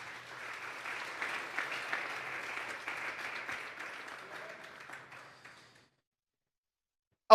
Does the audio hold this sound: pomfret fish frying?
no